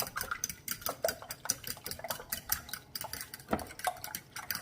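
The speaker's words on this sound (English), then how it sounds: "Now I'm just going to break them apart and mix well." Whisk or fork clattering against a bowl while large eggs are broken apart and beaten, a quick irregular series of close, bright clinks and scrapes with no talking.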